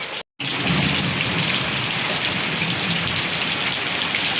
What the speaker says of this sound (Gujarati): જોરદાર વરસાદ વરસી રહ્યો છે.